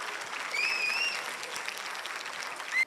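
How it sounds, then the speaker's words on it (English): An audience applauds at a school annual day performance, a sustained, even round of clapping with a couple of brief whistle-like tones near the start and a short louder spike at the very end. "Please have another loud round of applause for our girls."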